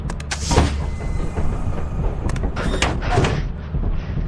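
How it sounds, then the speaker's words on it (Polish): A sliding ship door in the game Lethal Company opens and closes repeatedly, giving loud mechanical whooshing slides in quick succession. "Otwieraj drzwi! Zamknij! Nie! Otwórz, otwórz!"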